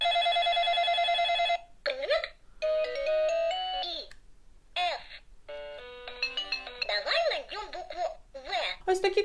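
A children's interactive toy mobile phone with a rear projector plays a string of electronic melodies, beeps, ringtone jingles and recorded baby giggles, in short bursts separated by gaps.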